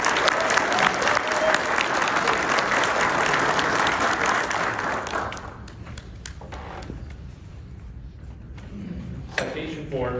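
A crowd applauds a deputy at a 2025 Kenosha County Sheriff's Office awards and promotions ceremony, with loud, dense clapping that thins and fades out about halfway through. Faint scattered claps and murmurs follow, and a voice speaks near the end.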